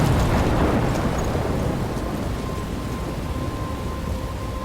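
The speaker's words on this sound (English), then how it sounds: "I'm trapped in a storm?" Thunderstorm in the video game Life is Strange: a heavy rumbling roll of thunder swells at the start and fades into a steady wash of rain and wind, loud and continuous throughout.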